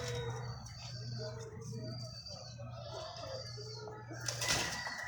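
Pigeons kept indoors, with a brief burst of flapping wings near the end over a faint, low background hum.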